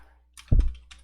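A short burst of a few computer keyboard keystrokes, close and fairly loud, with one heavier thud of a key in the middle and no talk.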